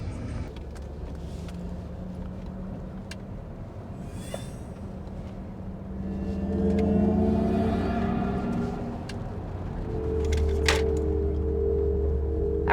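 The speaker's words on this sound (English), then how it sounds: "those are the wild driving sounds here in the EQS SUV." Synthetic driving sound piped through the cabin of a Mercedes-Benz EQS 580 SUV, a 2023 electric three-row model. A low hum rises into layered, swelling tones as the vehicle speeds up, strongest in the second half.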